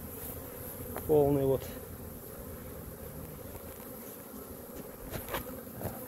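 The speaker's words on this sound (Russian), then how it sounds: "на кормушке пчела" Honeybees buzz around a hive feeder outdoors at the edge of a town in spring, with one brief, louder close buzz as a bee passes near, over a steady faint hum, while someone speaks briefly.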